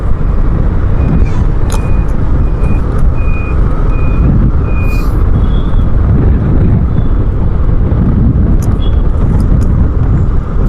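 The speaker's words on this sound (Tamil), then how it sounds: "பின்னாடி லாரி பாருங்க நான் காமிக்கிறேன்." A truck rumbles loudly past on the road behind with strong wind buffeting the microphone, while repeated reversing beeps sound in the background.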